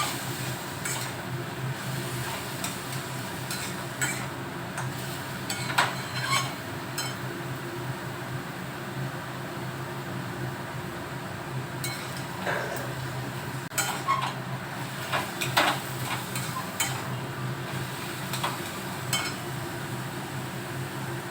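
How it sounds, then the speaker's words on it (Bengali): Chicken momo filling with meat being stirred and sautéed in a pan, with scattered scrapes and clinks of a utensil against the metal over a soft, steady background hum, intermittent and moderately close. "এবার আমি এটাকে ভালো করে মাংসটা দিয়ে একসাথে কষতে থাকবো।"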